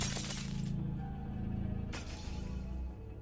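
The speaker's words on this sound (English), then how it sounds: "She breaking the spirit font? With that shattering sound?" Glass-like shattering bursts in the Fate/Grand Order game: a bright crash at the start, then a second shorter smash, over a low steady game soundtrack.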